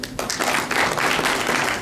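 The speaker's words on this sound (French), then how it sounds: "veuillez vous applaudir, s'il vous plaît" A crowd at a youth gala evening honouring women of merit bursts into applause, a short, dense and loud wash of many clapping hands with no pauses.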